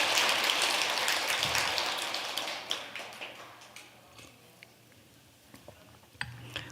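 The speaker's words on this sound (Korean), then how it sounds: "박수를 치려면 좀 화끈하게 쳐보세요" Applause from a crowd at a Buddhist dharma talk in a temple hall, a dense burst of clapping that fades over several seconds into scattered claps and quiet room noise.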